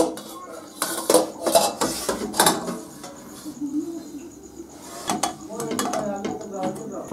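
Metal lid and steel tiffin box clatter on a village kitchen stove as the steamed katla fish vapa is uncovered and lifted down, a series of sharp clanks and scrapes under a woman's speech.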